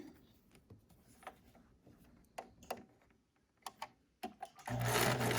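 A sewing machine stitches a fabric face mask in short rattling runs forward and backward, quiet at first, then a louder sustained burst near the end, with no talking.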